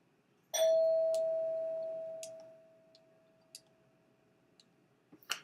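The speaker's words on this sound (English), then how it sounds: "Got someone ringing my doorbell." Single doorbell chime rings out clearly over quiet room tone, a sharp strike followed by a long sustained tone that slowly fades over about two seconds, with faint scattered clicks afterward.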